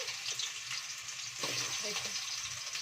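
Potatoes sizzle and crackle steadily as they are lightly pre-fried in a hot pan, with occasional stirring scrapes close by.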